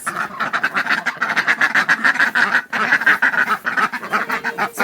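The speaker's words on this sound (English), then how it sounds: "So many birds and ducks." Ducks and other farm birds crowd together at a cold winter morning feeding, their quacking and honking calls dense, loud and continuous from close by, overlapping without pause.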